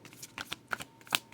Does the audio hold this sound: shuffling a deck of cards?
yes